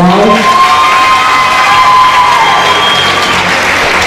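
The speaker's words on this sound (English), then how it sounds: "huge round of applause" Loud audience cheering, whoops and applause from a crowd honoring pageant state title holders on stage at an event, sustained throughout with shouted voices and some high-pitched tones.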